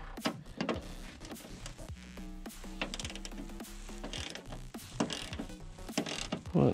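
A ratchet fitted with a 10 millimeter socket loosens bolts on a car's air filter box, giving bursts of quick close clicking separated by short pauses.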